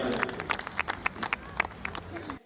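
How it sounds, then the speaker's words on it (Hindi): Scattered applause from an audience at a comic poetry gathering, with sharp individual claps standing out over a crowd murmur and some voices underneath. "जोरदार तालियां"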